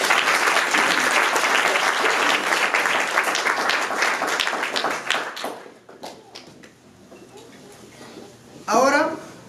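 Loud, dense applause from a wedding crowd for several seconds, then thinning into scattered claps before a voice speaks near the end.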